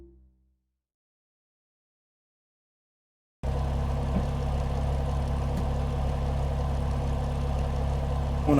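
A car engine in CarX Drift Racing Online idles with a steady low hum after a few seconds of silence, continuous and moderately loud.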